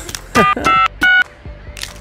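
Touch-tone keypad beeps as a phone number is dialed on a phone inside a device, three sustained steady tones with brief gaps between them, fairly loud, with faint background sounds around them.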